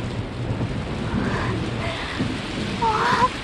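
Steady rain in a film scene from the 1998 Iranian film The Sorceress, with rumbling low noise that may be thunder running throughout at moderate loudness and a brief higher tone near the end.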